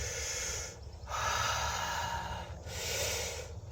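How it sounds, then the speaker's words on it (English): A person takes deep stomach breaths while stretching, heard as slow, close, airy inhales and exhales in a quiet room. Nobody speaks. "deep breaths,"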